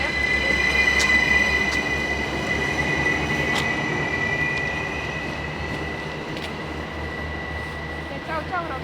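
A train rolls along the rails at Elva, Estonia, with a long steady rumble, squealing wheels and a sustained high metallic whine, fairly close and fading slightly toward the end.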